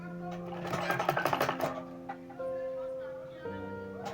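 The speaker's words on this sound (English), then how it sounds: "and then you sew with 1/4 of an inch." A sewing machine stitches a welt pocket with a quarter-inch seam, its rapid needle rhythm running at close range before easing into steadier tones, while a person talks alongside.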